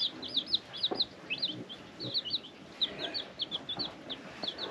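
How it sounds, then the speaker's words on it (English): A mother hen with four little chicks on a homestead, soft low clucks mixed with repeated high peeping chirps from the chicks, close by and fairly quiet. "Here's the mama, and she's got four little chicks with her."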